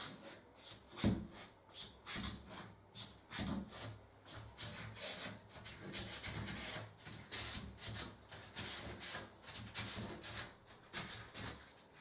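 Sandpaper rasps along the edges of wooden staircase spindles in short repeated strokes, a close, quiet scratching rhythm with brief pauses between passes.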